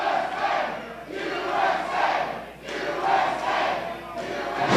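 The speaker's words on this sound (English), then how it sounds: "Listen to the crowd." A wrestling arena crowd cheers and chants in rising and falling waves, loud and rhythmic, with no commentary over it.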